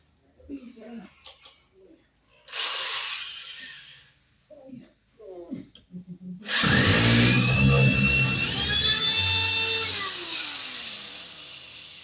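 Muffled voices, then a power drill whirs loudly for several seconds while installing wiremold for a ceiling light, its motor pitch sliding lower as it slows.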